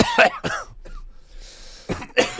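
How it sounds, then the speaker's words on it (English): Two pairs of sharp, close coughs, separated by a quieter pause with faint breathing and hiss. "I coughed too. It's fine."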